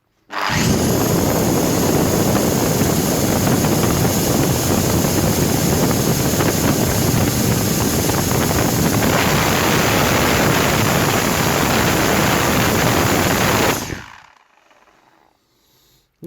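A Makita UC-series electric chainsaw runs steadily at full speed for about fourteen seconds, a loud constant whine and rattle close by, then cuts off abruptly and winds down into quiet.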